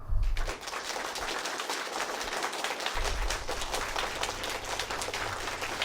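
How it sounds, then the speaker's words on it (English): An audience applauding, a steady wash of clapping at moderate volume that carries on throughout. "that means he wants his round of applause"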